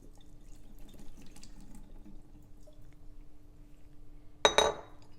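Hot water is swirled inside a warmed teapot and then poured out, a quiet low slosh building to a brief, loud splashing pour with clinking near the end.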